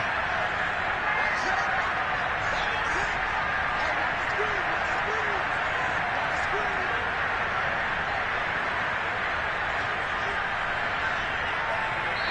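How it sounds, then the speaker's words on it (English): A home crowd at a Broncos football game in Denver applauds in a dense, steady wash of clapping and crowd noise that never lets up, with a commentator talking over it throughout. "And the home crowd applauding"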